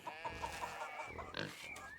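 A pig in Pentiment grunts and oinks in a quick run of short, close snorts, faint overall, with a brief louder squeal toward the end.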